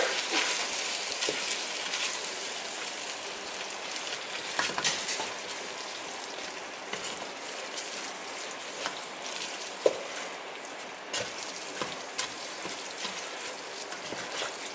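Taco filling with cream cheese sizzles and fries steadily in a pan, a close, constant crackle broken by occasional scrapes of stirring.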